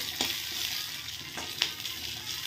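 Food frying in a little oil with salt stirred in gives a soft, steady sizzle under faint hiss, with a few light scrapes of stirring. No one speaks.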